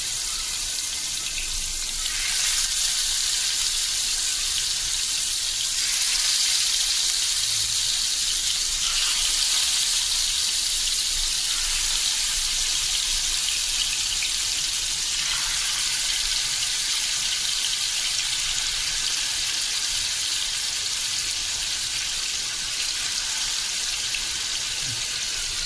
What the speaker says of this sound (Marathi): तर भांड्यामध्ये आपण तेल घालून घेतलंय. आता आपण चिकन फ्राय करून घेणार आहोत.